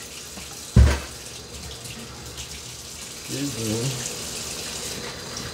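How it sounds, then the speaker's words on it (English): Tap water runs steadily while hands are washed at a kitchen sink, with a brief thump near the start and splashing later. A voice speaks briefly over it. "Let me wash my hands again."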